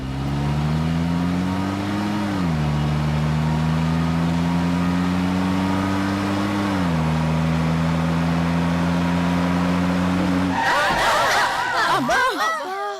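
A bus engine drones with a low, steady tone that dips twice as the vehicle slows. The hum then cuts off abruptly as the bus stalls and other scattered sounds follow.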